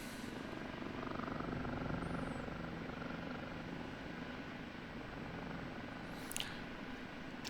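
OH-58D Kiowa Warrior helicopter in the DCS flight simulator gives a steady, low rotor and engine drone that runs unbroken for several seconds, fairly quiet and alone.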